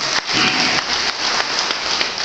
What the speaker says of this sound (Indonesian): Kawan-kawan jangan tepuk tangan dulu